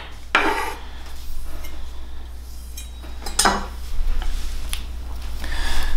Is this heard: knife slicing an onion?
yes